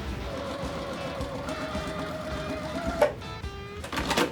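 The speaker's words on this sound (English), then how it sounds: "we're gonna sew straight down like this" A sewing machine runs steadily while stitching quilt strips together, a continuous close mechanical whir with a brief louder knock near the end.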